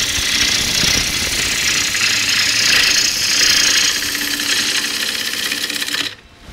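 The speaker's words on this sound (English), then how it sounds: "I generally prefer to use my shallower gouge, which takes almost the same shaving" A shallow gouge shaves a wooden bowl spinning on a lathe, giving a continuous loud hissing cut that stops abruptly near the end.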